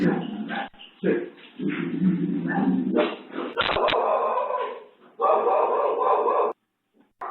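A man wielding a slipper chases a dog out of a house and into the kitchen. The dog barks and whimpers amid scuffling commotion, with a rooster crowing and voices talking.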